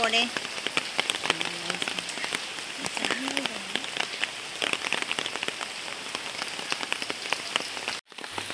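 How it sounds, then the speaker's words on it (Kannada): Heavy rain pounds down nearby with a dense, crackling patter of drops striking surfaces, with faint voices underneath and an abrupt brief dropout near the end. "ನೋಡಿ, ಜೋರು ಮಳೆ ಬರ್ತಾ ಉಂಟು."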